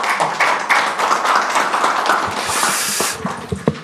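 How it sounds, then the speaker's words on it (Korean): Warm applause welcoming a speaker at a Korean policy forum on THAAD deployment and the Korea–US FTA renegotiation: a loud, sustained burst of crowd clapping that thins into a few scattered claps and soft rustling at the end. "뜨거운 박수로 환영해 주십시오."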